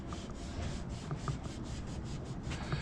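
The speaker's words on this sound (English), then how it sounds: "Nancy's still working on the sanding." Steady back-and-forth scrubbing of sandpaper on wood, rhythmic strokes repeating roughly every quarter second, close and moderately loud with no talking, on a sunny day in Stuart, Florida.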